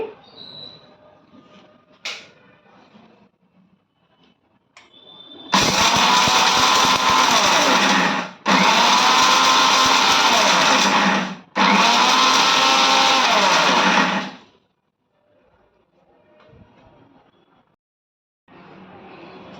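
A kitchen mixer grinder blends curry leaf spice powder in three loud whirring bursts separated by short pauses, with quieter handling and clicks before and after.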